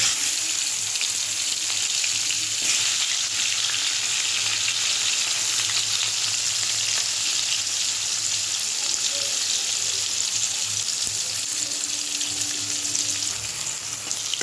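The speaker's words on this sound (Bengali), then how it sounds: "তেলটা গরম হয়ে গেছে, মাছটা আমি দিয়ে দেবো।" Fish frying in hot oil, a steady, continuous sizzle and crackle that holds at an even level throughout, close by, with no talking over it.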